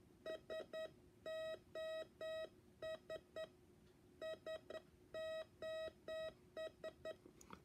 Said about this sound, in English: So SOS sounds like this.